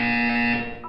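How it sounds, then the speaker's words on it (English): A steady electronic buzzer tone from the Portal video game's wellness exercise sounds continuously for about a second, loud and alone, with a small blip near the end. "When you hear the buzzer, look down at the floor."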